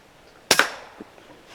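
A single sharp crack from an air rifle fired at a squirrel, close and loud, with a brief fading tail and a faint small knock about half a second later.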